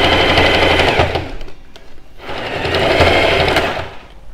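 Sewing machine stitching a seam on a blouse, loud close bursts of fast whirring stitching with a brief pause in the middle before running again.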